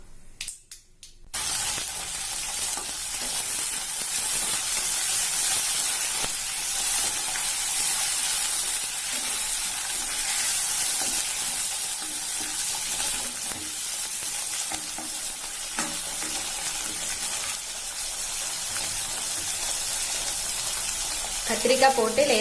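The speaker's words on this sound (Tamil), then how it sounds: "கத்திரிக்காய் போட்டு லேசா வதக்கியாச்சு." Drained brinjal pieces fry in a pan with curry leaves, mustard seeds and urad dal, giving a loud steady sizzle that runs almost the whole time after a brief quiet start, with occasional scraping stirs.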